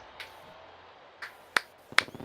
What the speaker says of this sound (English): Baseball geek clapping here.